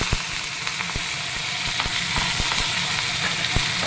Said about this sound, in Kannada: ಇದಕ್ಕೆ ಸ್ವಲ್ಪ ಹಸಿ ಕರಿಬೇವು ಹಾಕ್ತಾಯಿದ್ದೀನಿ